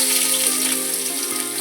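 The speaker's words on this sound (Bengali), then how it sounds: "ওই তেলের মধ্যে দিয়ে দিলাম এখানে আদা আর রসুন থিতো করা" Crushed ginger and garlic hit hot oil in a kadai, making a steady, close sizzling hiss that holds evenly throughout alongside a faint tonal hum.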